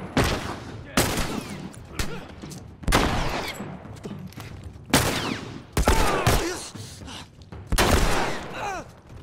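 Sharp, loud gunshots from The Last of Us Remastered, fired singly or in short bursts at irregular intervals with ringing tails between, and brief voices heard amid the shots.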